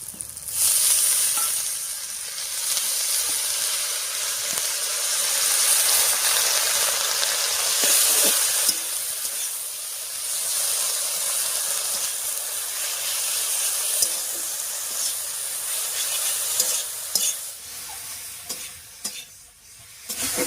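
Amrul greens tossed into a pan of fried eggplant give a steady, close sizzle and hiss with stirring scrapes throughout, a continuous frying crackle that holds at a fairly even level.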